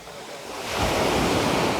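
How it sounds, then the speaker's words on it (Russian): Sea waves washing onto Cleopatra beach in Alanya, Turkey, a broad rushing surf that builds from a softer wash into a loud, close hiss and stays full, mixed with some wind. "Видите, как шумит море, да?"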